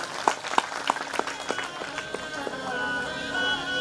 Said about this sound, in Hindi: तालियां बजाइए इनके नाम से।